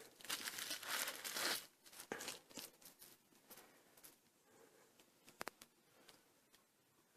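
Plastic bubble packaging crinkles and rustles up close as a necklace is unwrapped, a dense burst of crackling at first, then softer handling, scattered small ticks and taps.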